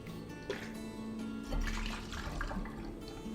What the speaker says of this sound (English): we're going to pour a couple shots of rum into the Mexican Coca-Cola